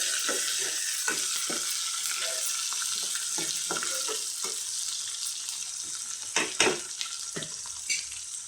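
Capsicum and green chillies frying in a pan, a continuous close hiss of sizzling oil punctuated by light taps and scrapes as the pieces are moved around, with a couple of louder clacks near the end.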